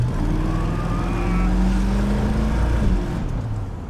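A Ford Ranchero engine fitted with a Holley carburetor runs steadily nearby, a loud low rumble that rises slightly in pitch and settles again, with no voices.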